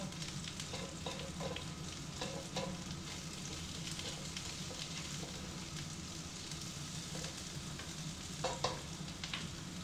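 Onion frying in canola oil for pork belly humba, an even, hissing sizzle running steadily throughout with occasional faint stirring clicks, quiet and close, no speech.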